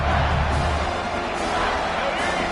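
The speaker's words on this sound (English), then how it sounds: "This crowd is trying to inspire this defense to make a big red zone stop." A football stadium crowd roars in a steady, loud wash of cheering during a red zone defensive stand, with a broadcast commentator talking over the din.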